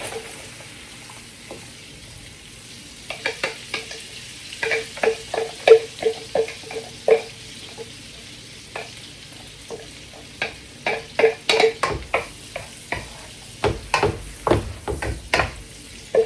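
Garlic sizzles in butter in a pan, with soft steady frying under repeated sharp stirring clicks and scrapes of a utensil, close and without talk.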